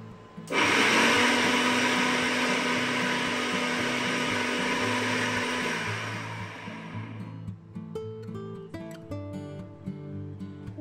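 A mixer grinder whirring loudly as it grinds spice paste with added water, a steady close motor roar lasting several seconds before winding down, followed by clattering kitchen sounds.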